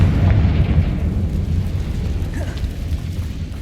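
A Confringo spell blast in Hogwarts Legacy produces a sustained, heavy rumbling roar, loud and steady with dense low-end energy that slowly thins out, and no distinct separate impacts.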